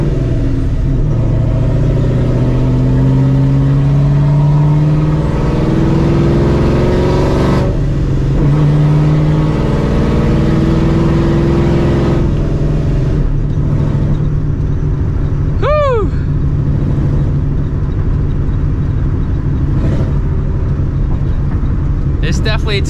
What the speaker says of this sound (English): you get the blower noise, you get the loud exhaust, you get like the random creaks, you know, from it being an older car